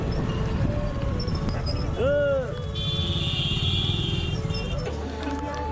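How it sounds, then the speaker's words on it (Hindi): A motorbike rides through town toward a railway station in Jammu, its engine a steady drone under passing traffic, with a horn-like tone sounding briefly partway through. "यहाँ से बाइक पे जाएंगे रेलवे स्टेशन तक।"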